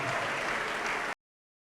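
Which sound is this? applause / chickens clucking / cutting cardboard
applause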